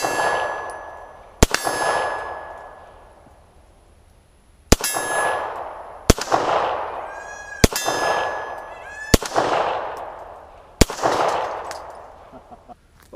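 Walther P38 (P-1) pistol fired at a shooting range: seven loud, sharp shots at uneven intervals, each with a ringing metallic clang and a long fading echo.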